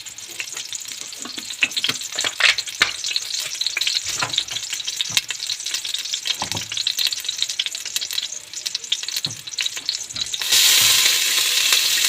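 Oil sizzles and fries steadily in a pan while meatless kofta is cooked at home, with scattered clicks of stirring and a louder hiss near the end; no one speaks.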